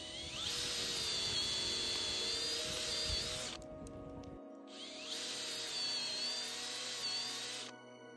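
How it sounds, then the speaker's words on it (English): Two long bursts of a high-pitched power drill whining steadily as it drills holes in a log, close by, separated by a brief pause with a low background hum. "I'll just go back and finish drilling holes."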